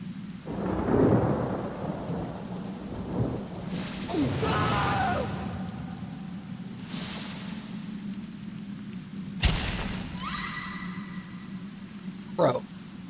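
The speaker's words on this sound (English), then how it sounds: "there's literally rain here" Rain falls steadily in the game Divinity: Original Sin Enhanced Edition, with a few loud thunder cracks and rolling rumbles breaking through, plus brief in-game effects and occasional voices.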